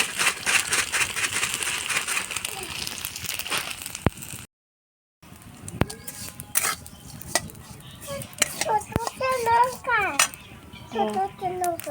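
Vermicelli being fried and stirred in an overheated wok, with a utensil repeatedly scraping and clinking against the metal, a brief silent gap midway, and a voice speaking intermittently.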